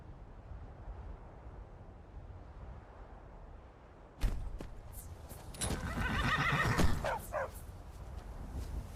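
Quiet ambience in Skyrim, then a sudden loud wild horse whinny with snorts and a few clattering hoof sounds, close by.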